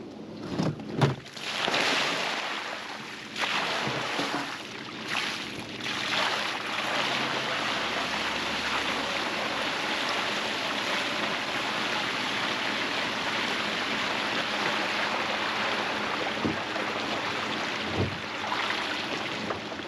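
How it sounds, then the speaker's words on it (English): Water gushes out of a tank being emptied at a stable, a broad continuous rushing splash that starts after a few short bursts and then pours on steadily and loudly to the end. "Alrighty, it's time to dump out the water. This tank's getting moved."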